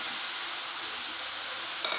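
Chopped zucchini (surakkai) dropped into a hot pan with turmeric sizzles with a steady, even hiss of frying that fills the whole stretch and stays fairly quiet, with no talk.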